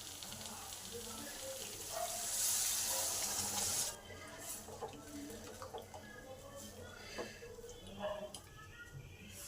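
Water is poured into dal in a pan over high heat, a loud rushing splash lasting about two seconds. Quieter bubbling and clinks follow, with talk around it.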